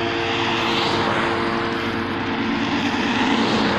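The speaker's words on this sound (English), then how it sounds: "That would be a helicopter." A steady, loud engine roar of a helicopter passing overhead, with a constant drone and no talking.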